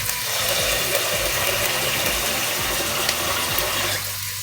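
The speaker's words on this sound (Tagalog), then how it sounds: "Ito, lagyan natin ang tubig." Water pours into a cooking pot over a wood fire for mung bean stew, a continuous nearby gush and splash that stops abruptly just before the end.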